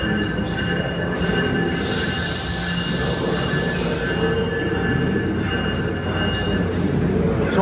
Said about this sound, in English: On track 3, the New Jersey Transit 519 train to Trenton